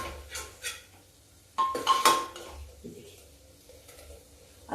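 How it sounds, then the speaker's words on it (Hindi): A spoon stirs a potato and soybean vegetable curry in a pot, giving soft scraping and a few metallic clinks in short bursts, close by and moderately quiet. "अब इसमें हम ये सब्जी भी मिक्स कर देते हैं।"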